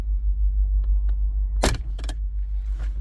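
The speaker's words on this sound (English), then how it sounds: "So all you have to do, just have to pry it under here and gently pull down." Prying the overhead reading light cover off in a Chevrolet Equinox: two or three sharp plastic snaps and clicks close by, over a steady low cabin hum.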